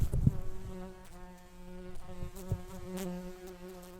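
Bumblebees buzz steadily and closely as marked bees are released, a continuous droning hum with shifting pitch as several bees fly about, with a few soft handling bumps at the start.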